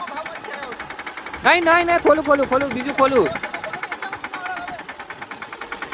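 A small tractor engine idles steadily with an even, rapid chug throughout, while people talk loudly over it in the middle.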